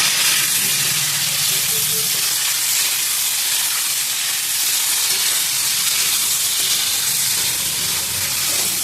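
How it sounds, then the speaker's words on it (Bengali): Potatoes and cauliflower frying in oil, a dense, continuous hiss of sizzling that stays loud and even throughout, with faint background sounds underneath. "এবার এর মধ্যে আমি আলু দিয়ে দেবো বা আলু ফুলকপি আর একটু ভেজে নেব"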